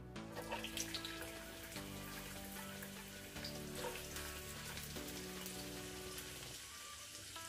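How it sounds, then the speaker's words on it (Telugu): Two medium onions, finely chopped, sizzle in hot oil in a steady, even crackle like light rain, close by and continuous, with soft background music beneath. "ఇప్పుడు ఆయిల్ వేడైంది కదా, నేను ఇక్కడ 2 మీడియం సైజు ఉల్లిపాయలు చిన్నగా కట్ చేసుకొని వేసుకుంటున్నాను"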